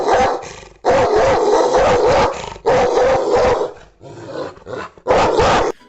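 A dog barks in loud, close bursts, with several clustered barks separated by short pauses and a brief low growl between them. No voices are heard.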